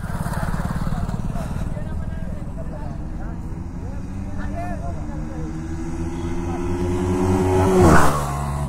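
Two Yamaha motorcycles, an R15 V3 and an R15 V4, in a short drag race, engines droning steadily with rising pitch as they accelerate, swelling louder near the end.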